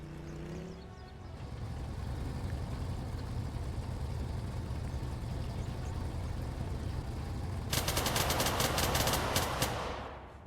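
Arma 3 gunfire: a rapid burst of automatic shots near the end, loud crackling cracks in quick succession over a steady droning engine rumble that runs throughout.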